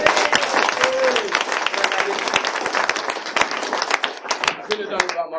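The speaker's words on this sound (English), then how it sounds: "So a round of applause, everybody." Wedding guests applaud during the reception speeches, a dense burst of clapping with a few cheers that holds steady for several seconds, mixed with crowd noise.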